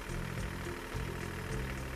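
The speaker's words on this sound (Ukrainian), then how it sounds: "Це одна з понижених передач, де просто там ну, трактор ледве котиться." A Japanese ISEKI TK25 mini tractor engine idles along in a low reduction gear, giving a steady low mechanical drone with faint rhythmic pulsing and no voices over it.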